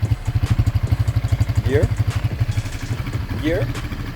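A motorcycle idles with a steady, close, throbbing engine pulse as a 14-year-old learner in Jamaica puts it into gear, while voices talk over the engine.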